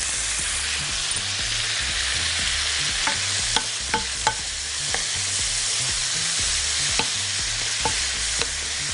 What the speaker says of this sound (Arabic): وهي بتتشوح كده